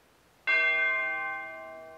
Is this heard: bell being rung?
yes